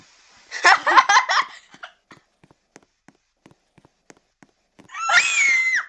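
A female video game character screams in bursts, loud and close, followed by scattered soft footsteps or taps, then another sustained high wailing scream.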